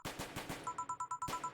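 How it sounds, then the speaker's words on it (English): Rapid bursts of distant gunfire crackle in a video game, a quick run of roughly a dozen shots in an uneven rhythm, with a faint electronic beeping tone woven between them. "I see lots of flashes in the distance. Most likely gunshots."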